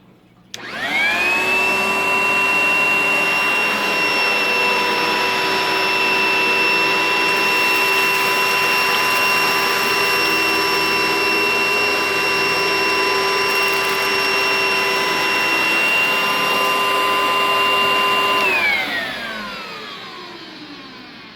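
A Panasonic Ultra Pro commercial upright vacuum cleaner runs with a steady, loud whine for about eighteen seconds on carpet, then spins down as it is switched off.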